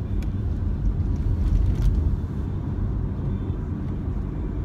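A car accelerating as the driver presses the gas. A low, heavy engine rumble swells to a peak midway, then settles into a steady drone heard from nearby.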